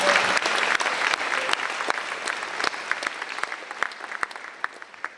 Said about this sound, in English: Round of applause to all of them